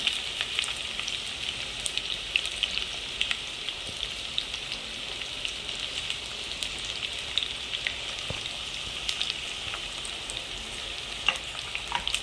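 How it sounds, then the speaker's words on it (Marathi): Finely chopped onion sautés in oil in a pan for homemade biryani, producing a steady, close crackling sizzle with scattered sharp pops throughout and no speech. "आता मी त्याच्यात कांदा टाकणार आहे."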